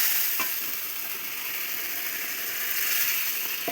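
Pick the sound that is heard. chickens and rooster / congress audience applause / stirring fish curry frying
stirring fish curry frying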